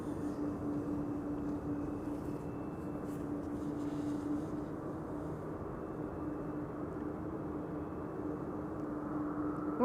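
A KLM Embraer E2 195 airliner on final approach to Amsterdam Schiphol Airport on a frosty day, a steady broadband jet rumble with a low engine whine, held at constant moderate level throughout with no talk.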